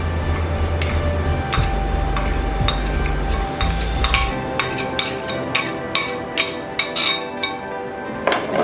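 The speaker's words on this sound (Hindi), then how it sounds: "अच्छी तरह मिक्स कर देंगे।" Spoon stirring yogurt in a bowl, a run of close clinks and taps against the bowl over a low steady hum, with no talking.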